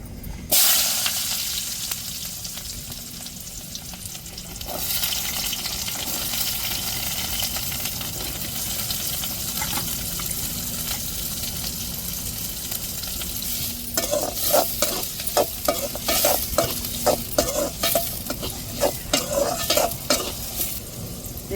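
Chopped onions with mustard seeds and curry leaves sizzle steadily in a hot pan, with a spoon stirring and scraping in bursts toward the end.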